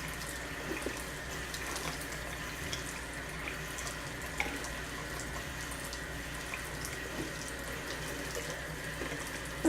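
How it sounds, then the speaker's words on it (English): Hot water runs from a tap on a cold morning, a steady, fairly quiet hiss of flowing water with faint splashes throughout. "Trying to get the hot water going this morning."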